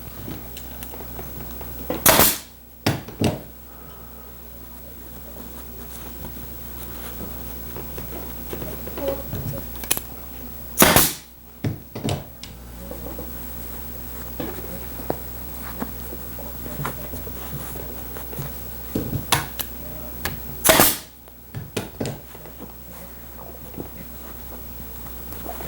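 A staple gun fires temporary staples through upholstery cloth pulled over cotton padding on a boudoir chair: three sharp, loud snaps about nine seconds apart, with quiet handling and rustling between.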